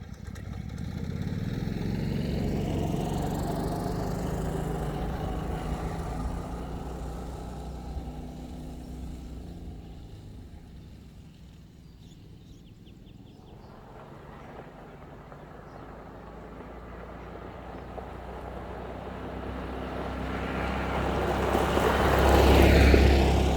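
A Hyundai gas golf cart, fitted with a replacement E-Z-GO carburetor, runs on a test drive. Its small engine drones steadily and fairly close, dips and fades mid-pass, then swells louder again as it returns near.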